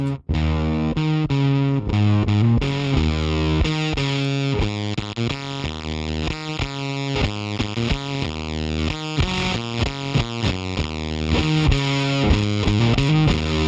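A heavily fuzzed electric guitar plays a riff of thick, buzzing, saturated notes and chords, loud and continuous with no talking.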